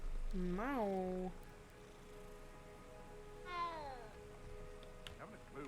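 A cat meows twice in a Harry Potter video game, a clear rising-falling meow followed after a pause by a longer drawn-out call, both close and distinct over a quiet background.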